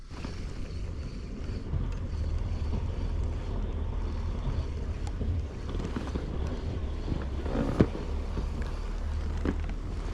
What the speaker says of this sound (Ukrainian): вітерець трошки, ти бачиш? Так, ага, трошки піднявся